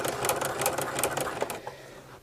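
A Baby Lock sewing machine stitches with a ruffling foot set to a long stitch length, running in a rapid, close rhythmic whir that stops abruptly after about one and a half seconds.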